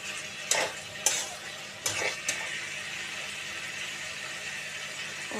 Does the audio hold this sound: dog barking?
no